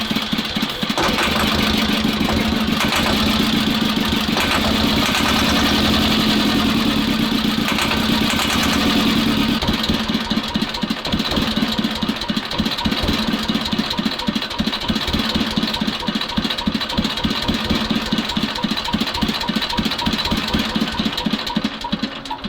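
T-16 tractor engine with a manipulator arm runs at full throttle, a loud, continuous, rough mechanical drone with a rapid steady pulsing beat, close up and uninterrupted, with no voices.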